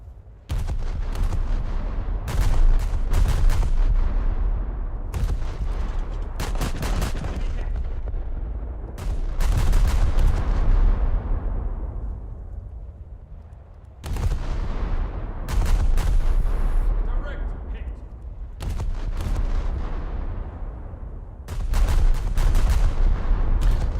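Naval guns firing from warships in a naval combat video game, including a Scharnhorst: repeated heavy, booming salvos with long rumbling decays, loud and close, in clustered volleys broken by brief lulls, with no talking.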